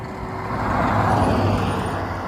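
An amphibious duck boat in the Wisconsin Dells drives up from the water onto land, a steady engine rumble swelling as it nears, with road traffic noise around it.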